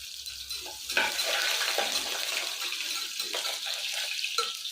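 Grated ginger and crushed garlic frying in a pan for village-style horse gram rice, a steady broadband sizzle with scraping stir sounds, close and continuous without any talk.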